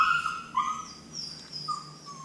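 An upset puppy whines in high, wavering tones with a few short yelps, fairly close over a faint steady background, with no talking.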